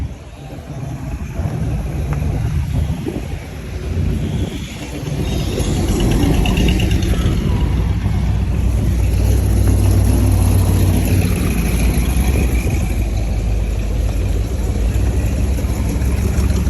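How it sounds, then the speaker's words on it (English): A car engine fitted with a ProCharger supercharger rumbles at a steady idle and swells into revs among other engines at a Mopar car show, with constant broadband noise and no clear talk. "That guy has a Pro Charger in his car."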